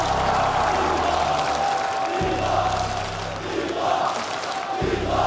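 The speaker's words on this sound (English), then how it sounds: "Continuez d'applaudir Hydra, s'il vous plaît." A large esports arena crowd at the Call of Duty: Black Ops 7 finals roars with sustained cheering and applause, loud and continuous throughout, with whoops and shouts rising over the din.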